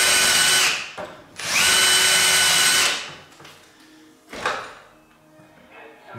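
An electric drill bores clearance holes for number 6 screws in a small vise during an 1865 Forster & Andrews pipe organ restoration; two loud whirring bursts are followed by a shorter third, with a brief voice in between.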